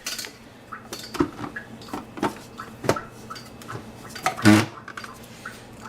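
Ketchup, Worcestershire sauce, Dijon mustard and basil leaves are stirred together in a dish, with a run of close utensil clinks and scrapes against the bowl, several sharp taps and one louder knock near the end, and no talking.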